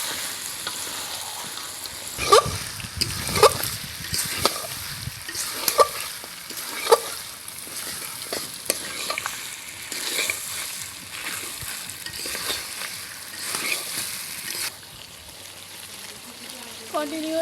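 Mutton from young goat being sautéed and stirred in a pan, giving a continuous sizzle with repeated spatula scrapes and clacks at irregular intervals, fairly close.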